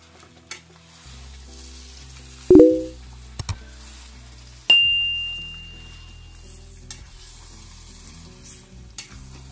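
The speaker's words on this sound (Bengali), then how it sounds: "দেখুন তেল উপরে চলে এসেছে। একবার নেড়ে দেব।" Chicken leg pieces frying in oil are stirred, with a couple of sharp scrapes and clanks over a steady low sizzle. The hiss rises and then fades after each stir.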